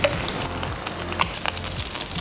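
Tortilla-wrapped chicken and cheese taquitos sear in oil in a frying pan, giving a steady close sizzle with faint crackles and light scraping as they are turned, no voices.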